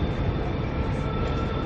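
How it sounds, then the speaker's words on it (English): Train rolling in toward platform 10 at a Brisbane station, a loud continuous rumble of wheels and motors with a faint high steady whine, close and sustained without any voices. "Got another train coming along here now too, which is interesting"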